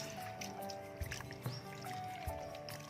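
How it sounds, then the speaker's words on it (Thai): Stink beans (sator) washed by hand in water, giving soft close splashes, drips and squishy sloshing at a low level. "ล้างสตอจ้ะล้างเอายางออกยางสตอออก"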